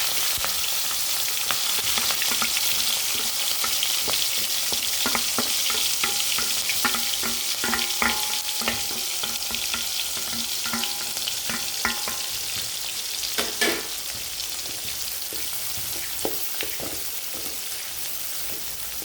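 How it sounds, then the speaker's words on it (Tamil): Onions, green chili and ginger sautéing in a pan, a steady crackling sizzle punctuated by scattered scraping and tapping from stirring, close and continuous with no talking. "நல்லா வதக்கிக்கலாம்."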